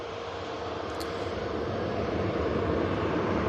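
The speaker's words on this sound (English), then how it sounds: "EasyJet A320neo just vacating, 23 right" An EasyJet Airbus A320neo rolls off runway 23 right after landing, giving a steady broadband jet roar at moderate distance that swells slightly, with one faint brief chirp early on.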